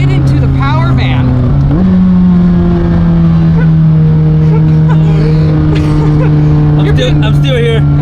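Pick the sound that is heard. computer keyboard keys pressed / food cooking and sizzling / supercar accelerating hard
supercar accelerating hard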